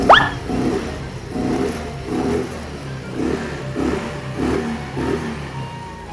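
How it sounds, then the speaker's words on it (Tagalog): A motorcycle engine that had been stalling when revved is tested with repeated throttle blips: about seven rhythmic rising revs follow a sharp opening burst, close and moderately loud, with a low idle between them. "Testing tayo kung mamamatay pa ang kanyang makina o mapapaatras ang bangs niya."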